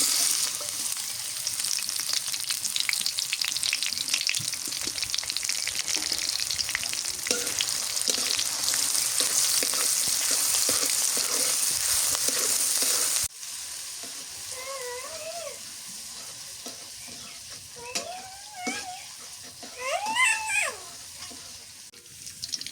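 Onions fry in hot oil in a large kadai, a loud continuous sizzle and crackle for about thirteen seconds that then drops away, followed by quieter background sounds with faint tonal chirps.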